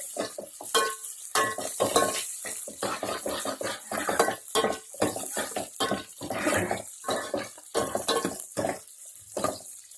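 Sliced onion and curry leaves frying in a pan for a tamarind rasam, with steady sizzling broken by frequent clattering stirs and scrapes of a spoon against the pan, close and fairly loud.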